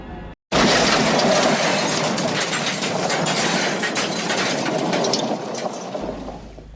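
A tram rolls along rails, giving a loud, continuous rumble with rattling, clattering wheel noise that begins abruptly and fades slightly toward the end.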